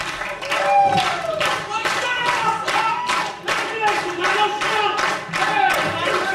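A wrestling crowd at an independent pro wrestling show claps in a steady rhythmic beat of sharp, evenly spaced claps, with an announcer talking over it.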